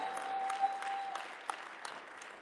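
A church congregation claps steadily, a dense patter of many hands at moderate volume that gradually fades over a couple of seconds.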